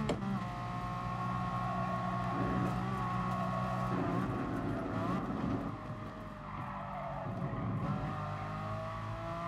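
Race car engines in Gran Turismo Sport during an FIA online lobby race roar continuously with a steady high whine that dips briefly mid-clip, accompanied by faint tire squeal, loud and close throughout.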